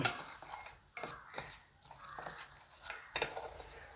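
An egg, the white separated from the yolk for chicken lollipops, mixed in a bowl: quiet, irregular scraping and clinking of a utensil against the bowl in short, uneven strokes, close by.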